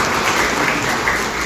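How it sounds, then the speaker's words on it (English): Audience applause for Team Massey of Massey Stores at a live event in Signature Hall: steady, dense clapping from a sizeable crowd that holds at an even level throughout. "round of applause for Team Massey"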